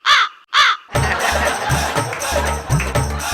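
Two loud, harsh crow caws at close range on a comedy stage during a fortune-telling skit, followed by a burst of crowd noise and music.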